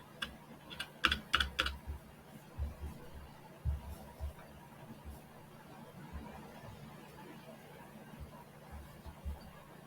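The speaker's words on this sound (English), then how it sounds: "I wasn't showing you what I was typing" Typing on a computer keyboard: bursts of close clicking keystrokes, busiest early, then scattered taps over a quiet room hum.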